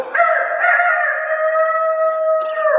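A person imitates a rooster crowing with one long, loud, sustained crow that holds steady for nearly three seconds and stands alone without other talk.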